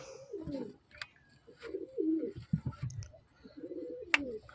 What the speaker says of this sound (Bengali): এই দেখুন জোড়া পায়রা